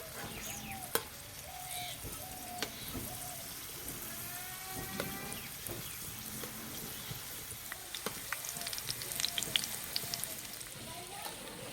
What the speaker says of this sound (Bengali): এবার ভেজে নেব